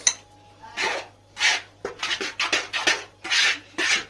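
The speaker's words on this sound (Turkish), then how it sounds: "Bunları bir spatula'ya ve karıştırıyoruz." Bread dough ingredients being stirred with a spatula in a bowl: repeated rough scraping strokes in uneven bursts, close and fairly loud, with no talking.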